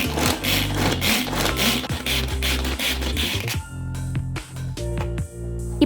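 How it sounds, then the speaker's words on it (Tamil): An electric chopper whirs steadily as it minces onion for a Tamil potato, onion and egg snack, the motor buzzing close and loud for several seconds, pulsing as the blades spin and stop, with no talking. "இன்னைக்கு நான் சாப்பர் யூஸ் பண்ணி தான் கட் பண்ண போகிறேன்."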